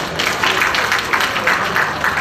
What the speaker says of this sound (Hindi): स्कूल की संचालिका श्रीमती सुधा सिंह जी का भी तालियों से स्वागत करें।